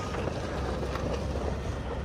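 An old International cab-over truck engine idles with a steady, low rumble that holds unchanged throughout, mixed with some wind noise and no talking.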